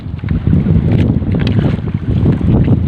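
Strong typhoon wind roars across the open sea while fishing from a boat, loud and gusty wind buffeting the microphone continuously, with no voices.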